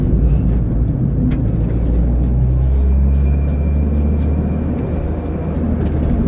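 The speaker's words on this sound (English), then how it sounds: "And that gear change, oh, it's so sweet." A modded Ford Fiesta ST accelerates through a gear change, a loud close engine drone and road rumble from inside the car, pitch dipping and climbing again mid-way, with no talk.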